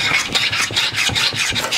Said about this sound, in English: I'm just gonna bevel the edges a little bit of the block so I don't end up cutting my hand